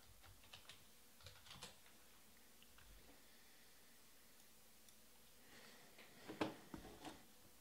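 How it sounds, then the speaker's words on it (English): Typing on a computer keyboard at a card-breaking session, with faint, sparse clusters of soft key taps separated by pauses and a brief louder burst near the end. "I'll type this up as we go"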